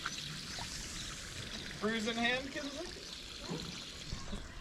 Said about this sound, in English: We got water pumping in.